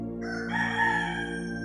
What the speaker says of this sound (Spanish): sintió cómo volvió a cantar el gallo.